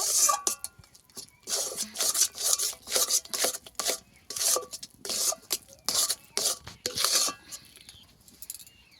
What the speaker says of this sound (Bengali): এখানে একটা এলাচ গুঁড়ো করে দিয়ে দিচ্ছি।